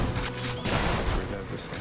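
Rail gun attack firing in the roguelike game Hades, a dense burst of rapid gunfire and impacts in loud combat, with a voice talking over it.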